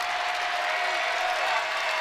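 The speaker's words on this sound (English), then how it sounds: "And here comes the crowd." Basketball crowd at Assembly Hall roaring during a tense late moment of a women's college game, a loud unbroken wall of cheering with a faint steady tone running through it.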